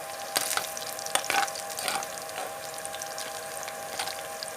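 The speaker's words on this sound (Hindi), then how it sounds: "अब वेजिटेबल फ्राई करेंगे।" Vegetables fry in a hot pan for chicken chow mein, a steady quiet sizzle with a few louder bursts of stirring and spatula scrapes early on.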